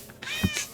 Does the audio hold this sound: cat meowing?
yes